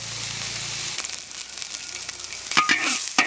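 Minced pork stir-fried in a wok gives off a close, crackling sizzle, then several quick scraping strokes of a spatula against the pan toward the end. No one speaks.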